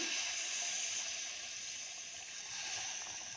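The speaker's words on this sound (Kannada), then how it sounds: "ಒಂದು ಕಪ್ ಅಕ್ಕಿಗೆ ಸ್ವಲ್ಪ ಎರಡು ಕಪ್ ಆಗೋಷ್ಟು ನೀರು ಹಾಕ್ತೀನಿ" Steady, close-up rush of about two cups of water pouring into a pot for cooking rice, a continuous bright splashing stream with no talking.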